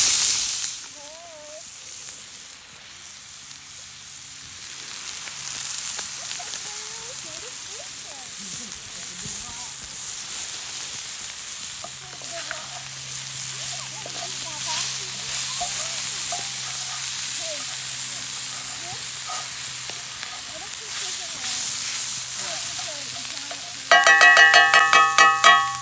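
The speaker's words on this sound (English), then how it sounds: "But for now, we'll let that bacon crisp up." Bacon frying in a pan outdoors beside a creek, a soft steady sizzle and hiss in the background while a person talks over it, a louder crackling burst near the end.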